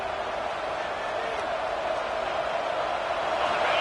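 A home crowd at a football game roars steadily on third down as the defense tries to get off the field, a dense, sustained wall of cheering that swells slightly toward the end.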